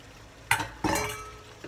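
A utensil stirs cuttlefish and tomato in a pan over high heat, two or three brief scraping strokes with a faint sizzle and light clinks, quiet and close.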